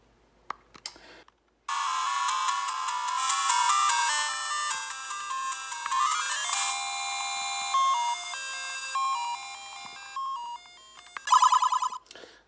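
Chiptune-style Game Boy game music from a BittBoy portable handheld, a bright melody with a steady beat that starts after a second of quiet clicks, runs continuously and ends with a short jingle.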